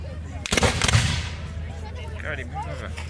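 A rifled musket volley at an American Civil War reenactment at a canal festival: a sharp burst of several near-simultaneous loud reports at once, followed by fading echo and crowd noise, with people talking around it.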